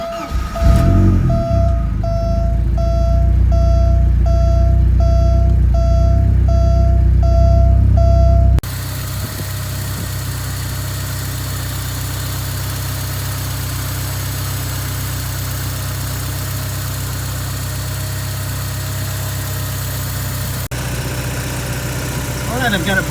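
A 1989 Porsche 944 Turbo engine runs with a deep, loud rumble under a high-pitched whine, then drops into a steady idle that keeps droning close by.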